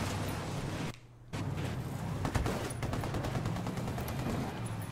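Rapid gunfire in Ghost Recon: Wildlands, a dense run of sharp repeated shots with a brief gap, then continued bursts over a low engine-like drone; no talk.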